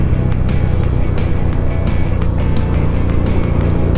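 Harley-Davidson V-Rod motorcycle under way, a loud, steady engine drone with dense low rumble and rushing wind noise, unbroken throughout.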